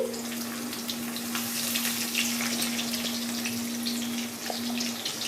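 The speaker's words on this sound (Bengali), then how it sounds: "আলুটা লাল লাল করে ভেজে নিচ্ছি তার জন্য সামান্য নুন দিচ্ছি" Potatoes fry in a karai with a little salt, giving a constant dense hiss over a steady low hum, with no talk.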